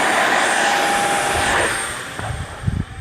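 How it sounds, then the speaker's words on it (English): RC model T-7 plane flying past outdoors, a loud buzzing whine of the electric motor that slowly fades as it moves away, with a few faint knocks and rustles close by. "What a great flying plane!"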